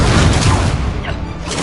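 An Incendio fire spell cast in Hogwarts Legacy: a loud, close, roaring burst of flame that fills the moment as one continuous blast, dense and rumbling, fading slightly toward the end.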